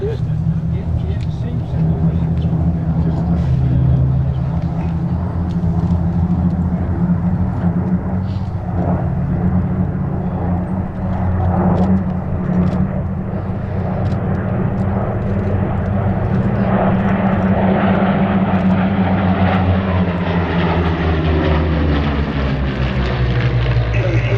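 Several Supermarine Spitfires fly over an airshow at Sywell, and a steady, loud piston-propeller drone fills the whole stretch, rising slightly in pitch toward the end, with a commentator talking over it.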